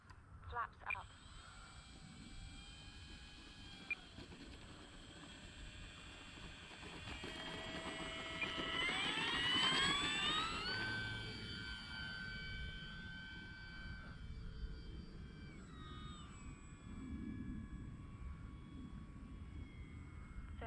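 An E-flite F4U-4 Corsair 1.2 m RC plane flies overhead on its maiden flight, its electric motor whining faintly at a distance, then rising in pitch and swelling louder at mid-pass before settling into a steady drone.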